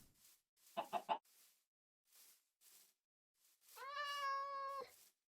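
A Minecraft cat meows in a short burst of three quick, close mewing cries, then gives one longer drawn-out meow near the end, with quiet game ambience in between.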